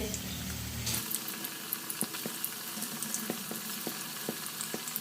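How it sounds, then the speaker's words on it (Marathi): Vadas deep-fry in hot oil with a steady, close, bubbling sizzle and scattered sharp pops and crackles, after a brief louder rumble at the start. "मी सध्या तर काय तळूनच घेणार आहे तेल तापत आले"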